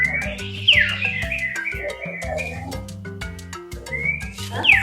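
A common hill myna calls at a bird park, giving loud clear whistles and sliding, rising notes in irregular bursts, while a steady low rhythmic hum runs underneath.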